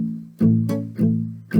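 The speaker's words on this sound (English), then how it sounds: "but it's called palm muting." Guitar strummed with palm muting, three short, thick downstrokes in a steady rhythm, each attack quickly dampened and ringing low, close and moderately loud.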